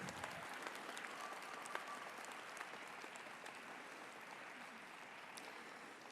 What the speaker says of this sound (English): give them a round of applause for all they've done for you